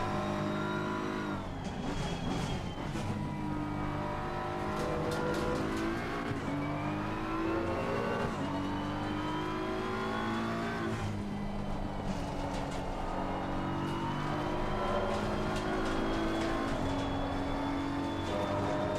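GT3 race cars, including a Ferrari and a BMW M4 GT3, race at Kyalami in a racing video game, engines droning and revving continuously and loudly as gears shift up and down.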